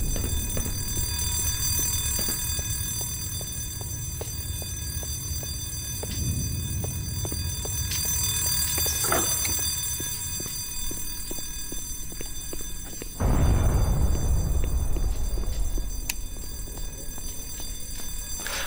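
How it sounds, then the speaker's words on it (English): Fire alarms ringing in the video game Black Mesa, a continuous shrill buzzing tone with rapid repeated pulses running steadily throughout, alongside scattered impacts and a sudden louder burst of noise near the end. "One thing I would have loved in this section was a button to turn off the fire alarms."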